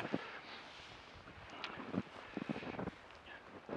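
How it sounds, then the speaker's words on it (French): Wind gusts and buffets outside a snow igloo on a cold, snowy evening, a low rushing roar with irregular thumps and flutters against the microphone, fairly quiet overall. "ce soir c'est assez venteux à l'extérieur"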